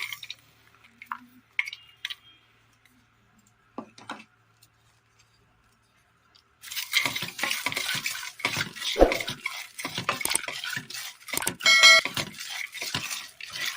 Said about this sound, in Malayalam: അടുപ്പത്തൊരു ചട്ടി വെച്ച് കൊടുത്ത് അതിലേക്ക് മത്തൻ കുരു ഇട്ട് കൊടുക്കാം